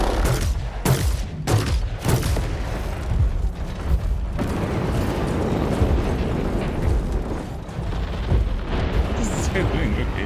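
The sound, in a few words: incoming missile explosions in War Robots: Frontiers video game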